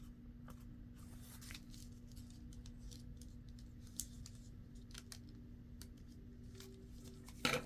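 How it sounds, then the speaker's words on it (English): Scissors cut paper for a handmade envelope with a corner-tuck window pocket. Faint, sparse snips and rustles sit over a steady low background hum, with a slightly louder crisp snip near the end. "I might better cut this a little straighter."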